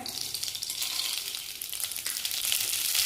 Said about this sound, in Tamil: கடுகு போட போகிறேன்